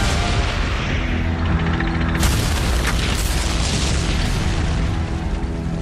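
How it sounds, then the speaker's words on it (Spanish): Heavy booming blast of a Panzer destroying a Sherman tank in a World War II battle reenactment at Arracourt, a loud deep explosion that crashes in midway and rolls on over dense rumbling battle noise. "Sin embargo, el tanque de Leach se para y un Panzer lo destruye"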